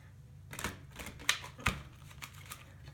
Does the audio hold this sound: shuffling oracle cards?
yes